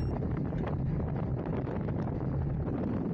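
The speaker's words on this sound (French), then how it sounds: "on n'est pas abrité du vent parce que là le vent il vient bien de la gauche" Gusty wind buffets the microphone during a cycling race, a loud, continuous low rumble with rapid fluttering bursts and no voices.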